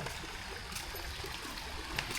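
Plentiful water flows steadily at a rural spot, a continuous close rushing trickle with faint splashes and no talking.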